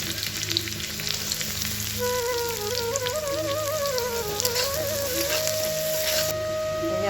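Chopped onion sizzles in hot oil with garlic for egg chow mein, a steady broadband frying hiss that stays even throughout, with faint tonal music running underneath.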